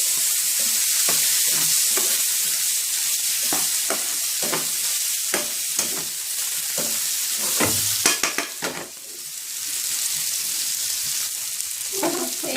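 Chicken liver and gizzards sautéing in ghee in a pan, a steady sizzle broken by repeated scraping strokes of a spoon as the pieces are stirred, close and fairly loud with no talk.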